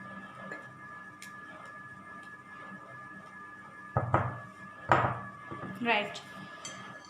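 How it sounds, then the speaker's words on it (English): A hand whisk beats veg pizza muffin batter in a bowl, sounding as a few sharp metallic clinks and scrapes against the bowl over a steady low hum. "So now just whisk it nicely with the help of a hand whisker"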